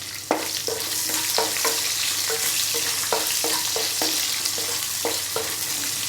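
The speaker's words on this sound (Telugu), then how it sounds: "ఇవి బాగా వేగాలి ఉల్లిపాయలు" Onions sizzle steadily in a hot pan with mustard seeds and cumin, a constant bright crackle broken by repeated clinking stirs of a spoon, close and alone with no voices.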